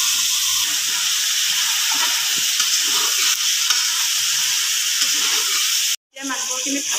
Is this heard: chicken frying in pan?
yes